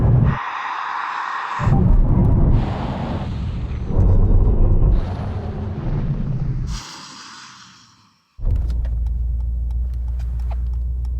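A BMW M5 CS, Mercedes-AMG E63, Audi RS6 and Porsche Panamera Turbo race, with loud engine roar rising through gear changes, a dip to near silence, then a sudden heavy low rumble, heard from inside a car.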